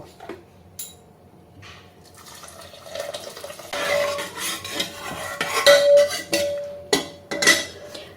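Water is poured into a pot of boiled biuli dal, splashing alongside clinks of a ladle and pan as the mixture is stirred, fairly close and without talk.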